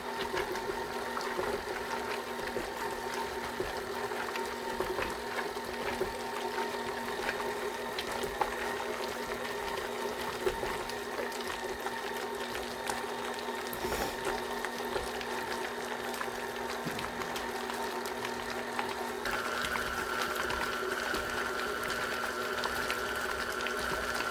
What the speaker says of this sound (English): Your electric mixer will do the work for you.